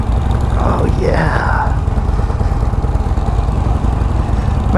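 Harley-Davidson Roadster 1200 motorcycle engine idling with a steady low, pulsing rumble throughout, close and loud, while someone talks over it.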